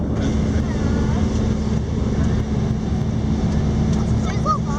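Steady, loud drone of a small plane's engine in flight over a small northern town, a constant low rumble with wind noise, while voices talk over it.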